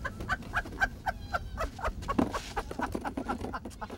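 Geese call in a rapid run of repeated honks, fairly close and steady, layered over a low rumbling background.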